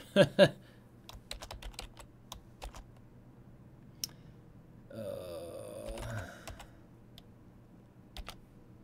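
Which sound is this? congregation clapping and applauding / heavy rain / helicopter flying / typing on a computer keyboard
typing on a computer keyboard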